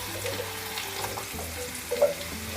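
Potato pieces tumble into a pan of onions and begin to sizzle, a close, steady frying hiss with a brief clatter near the end and no voices.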